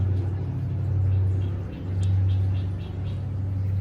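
A vehicle engine revs with a steady low droning hum that swells twice, rising and falling in loudness, fairly close and continuous, with no talk over it.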